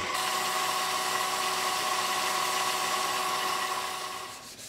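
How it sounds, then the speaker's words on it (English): A small rotary power tool whirs steadily as it sands with fine sandpaper grit, a continuous high buzzing hum held close and fairly quiet, then tapering off at the end. "we're doing in sanding is we're trying to get rid of the scratch marks from the grit before"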